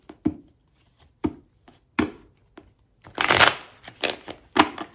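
Tarot cards being shuffled by hand: a few sharp taps and flicks, then a dense burst of riffling followed by more short shuffles, close and clear with no talking.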